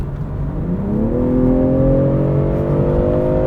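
A BMW M340i xDrive accelerates hard from about 90 km/h to overtake, its engine note climbing steadily in pitch and swelling into a loud, smooth, sustained drone heard from inside the car.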